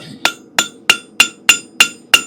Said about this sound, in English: Just as easy to safe it with your hammer.